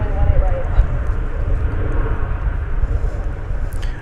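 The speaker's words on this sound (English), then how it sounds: "That was American Flight 1969 coming in from Las Vegas, an Airbus A321." American Airlines Airbus A321 arriving from Las Vegas at Dallas Fort Worth airport, a loud steady jet rumble passing close by while someone talks over it.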